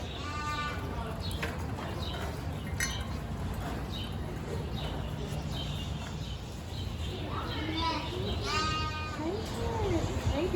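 Sheep bleating at a petting zoo, several wavering calls, some close and some farther off, over a busy background of people talking.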